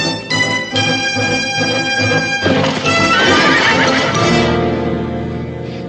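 A horse neighs loudly and close, with a long shrill whinny rising over a musical score that continues underneath.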